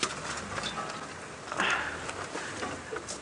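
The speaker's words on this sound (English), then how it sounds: "I'm following the alarm calls of the birds" Scattered bird alarm calls sound from a distance over a steady, hissy outdoor background on a sunrise safari drive, with one sharper burst of calling midway through; no one speaks.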